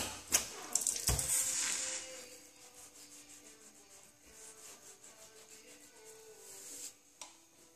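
A wet rag rubs and scrubs against a heated body panel of a 2005 Honda S2000 under repair, giving close, uneven hissing swipes with a burst of sharp scraping early on and quieter rubbing afterward.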